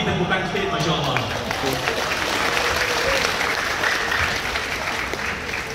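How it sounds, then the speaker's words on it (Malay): Audience at a Malaysian religious lecture on the Quran breaks into sustained applause, a dense, steady wash of clapping filling the room for several seconds, with faint voices mixed in. "Bagi tepukan sikit"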